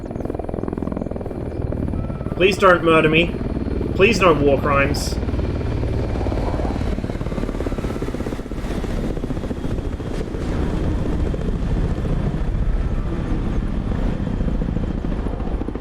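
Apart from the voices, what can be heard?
Ka-50 helicopter in DCS video game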